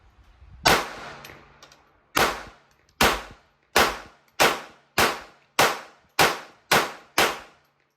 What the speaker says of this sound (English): this will be 90 and 100 rounds out of the Walther P22Q